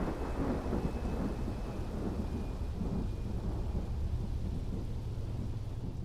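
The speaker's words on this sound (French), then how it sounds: "Il faisait nuit, et une énorme tempête s'abattait sur la ville." Steady heavy rain with low, rolling thunder rumbling continuously underneath, a dense storm sound filling the whole stretch without pause.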